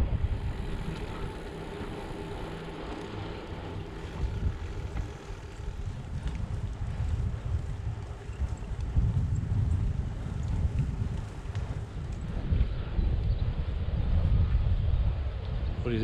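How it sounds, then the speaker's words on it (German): Strong wind buffeting the microphone while cycling through the Brandenburg countryside, a steady low roar and rumble that swells and gusts louder toward the end, with no talking. "Ganz schön windig, mein lieber Schwan."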